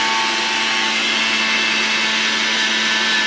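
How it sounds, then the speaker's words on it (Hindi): A mixer grinder whirs loudly and steadily at close range as it grinds oats into flour, a constant high-pitched motor roar with no breaks. "अब मैं इसको नॉर्मल जैसे आप मिक्सी में पीसते हैं इसको हम पीस लेंगे।"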